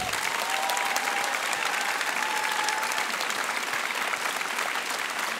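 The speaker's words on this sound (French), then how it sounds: "un tonnerre d'applaudissements pour le roublard, Mathias Pizzilato" Loud, steady applause from an audience at the final of a high-school eloquence contest, a dense continuous clatter of clapping hands lasting several seconds with a faint whistle and no talk.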